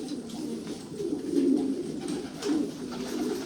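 Pigeons cooing close by, a few low throaty coos swelling and fading in a slow rhythm over quiet background.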